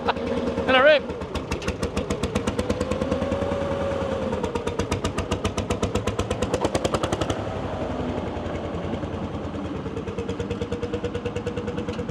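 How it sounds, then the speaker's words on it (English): Big single-cylinder engine runs with a loud, slow, regular chuffing beat, each firing pulse clearly separated, slowing gradually toward the end, with people talking nearby. "That's a big single cylinder."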